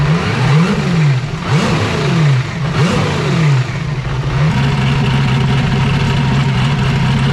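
A turbocharged LS V8 engine on a jet ski runs loud and close, with a steady rumbling idle broken by several short revs that rise and fall before it settles back to idle.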